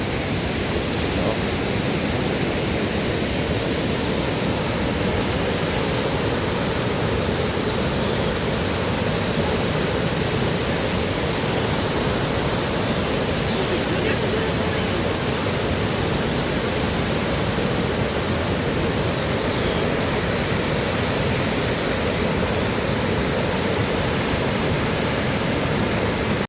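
Mimbalot Falls, the main waterfall in Buru-un, Iligan City, gives a steady, loud broadband roar that stays constant and close for the whole stretch, with no voices over it.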